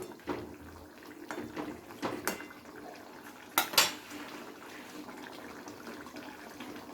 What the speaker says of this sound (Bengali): মাছগুলো দিয়ে হালকা একটু নেড়ে চেড়ে দিচ্ছি ঝোলের সাথে